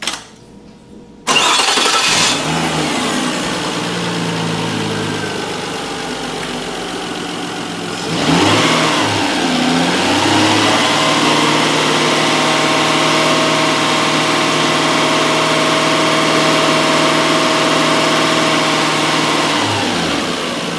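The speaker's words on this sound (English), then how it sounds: "start the engine, keep 2500 to 3500 RPM," A car engine cranks briefly and catches, then runs steadily with a rise in revs held around 2500 to 3500 RPM for a battery charging test, loud and close, a continuous mechanical drone with no voices.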